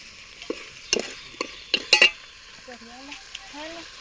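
Kathiawadi green peanut curry tempering frying in a pan, with a soft sizzle under several sharp spoon-on-pan stirring clinks and scrapes, followed by faint tonal kitchen sounds near the end.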